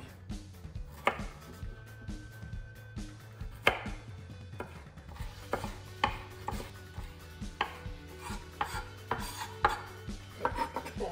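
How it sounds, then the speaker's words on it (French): A knife chops carrots on a cutting board, sharp irregular taps in quick bursts, close and fairly loud, with no talking. "Allez, on va couper nos carottes."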